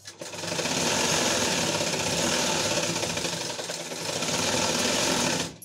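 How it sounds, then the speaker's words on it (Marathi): A sewing machine stitches along the neckline edge of a blouse, a loud close rapid mechanical chatter that runs continuously for several seconds, dipping briefly before carrying on, then stopping. "आता ह्या गळ्याच्या कडेने टीप मारून घ्यायची आपल्याला"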